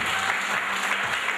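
An audience at a wedding show applauds, giving steady, dense clapping close by that fills the whole moment without pause, with no voices heard over it.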